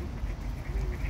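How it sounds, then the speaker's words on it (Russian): A duck quacks faintly in an autumn park in St. Petersburg, its brief call barely rising over steady outdoor background noise. "Утка ржет."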